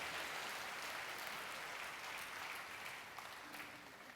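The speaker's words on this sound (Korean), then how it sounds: "여러분께 박수로 환영하시죠." Church congregation applauding to welcome newcomers during a service, a steady, dense wash of clapping from many hands that slowly tapers off, with a brief voice near the end.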